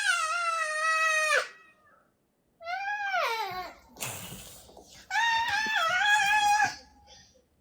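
A person imitates a cat with drawn-out, wailing meow-like cries and a short, breathy hiss, in several separate bursts with brief pauses between them.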